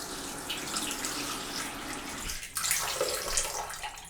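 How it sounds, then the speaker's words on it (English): Water runs steadily from a faucet into a Glacier Bay Pearl Gray cultured marble vanity sink, a continuous close splashing rush that grows slightly brighter partway through. "just put a little bit of water in there"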